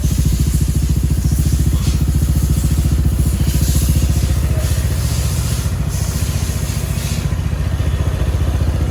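Honda Vario 125 scooter engine, bored up with a 58.5 mm RX7 Racing block kit, idling close up with a steady fast pulsing exhaust beat and mechanical clatter, loud and even throughout.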